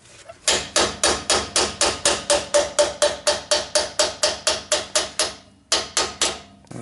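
A hammer strikes a socket on a half-inch drive extension used as a bearing driver while rebuilding a GM 10-bolt rear end, with about twenty sharp, evenly spaced metallic blows, close and loud, and a short pause before the last.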